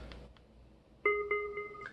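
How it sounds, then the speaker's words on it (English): Bluetooth speaker button beep: a short chime of three quick rising electronic tones after a quiet start, clear and close in a calm room. "It has an audible noise to let you know that you pressed it."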